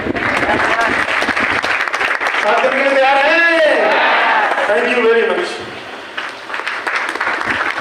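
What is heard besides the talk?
audience applause at meeting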